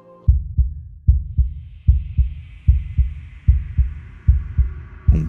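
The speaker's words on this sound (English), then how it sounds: "you can hear the heartbeat under the" A loud, close heartbeat from the video game Slay the Princess thumps in a steady double-beat rhythm, about a dozen pulses over a faint high hum, with no voices.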